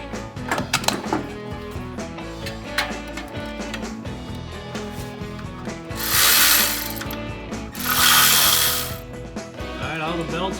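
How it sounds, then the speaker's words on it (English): A hand ratchet clicks rapidly and steadily while tightening the front bracket on a 1984 Chevy Blazer engine, with close, loud bursts of pawl clicking and short pauses between strokes. "Now when I tighten the front bracket, so I'll snug it up."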